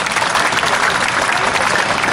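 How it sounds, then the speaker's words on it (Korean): Dense crowd applause fills a Sewol ferry disaster 500th-day memorial rally, a steady, loud wash of many hands clapping throughout with no pauses. "다시 한번 박수 부탁드리겠습니다."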